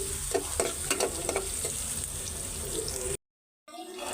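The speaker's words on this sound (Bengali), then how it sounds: "ডিম ভুনার জন্য আমি পেঁয়াজটা ভাইজা নিতেছি মশলাটা কষাই নেই" Onion and spices fry in oil in a pan, a steady sizzle broken by stirring scrapes, then a brief total silence before the sizzling resumes near the end.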